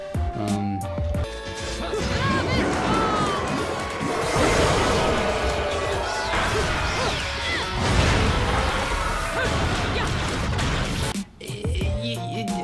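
Hair attack hits from the Bayonetta video game on PS3 land as loud crashing, thwacking impacts and whooshes layered over busy game music and effects.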